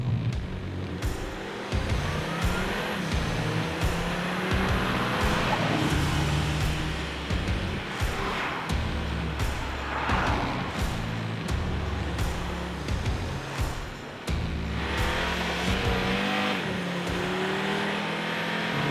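An Audi RS3 with its five-cylinder engine drives and revs, a steady gravelly engine note from inside the car that swells and eases with repeated throttle changes, rising in pitch during acceleration.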